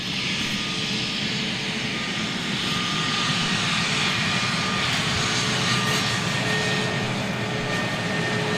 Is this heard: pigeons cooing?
no